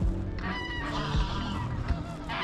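A goose honks repeatedly on the water near a paddler at Salhouse, loud harsh calls in quick succession over the splash and rumble of the surroundings.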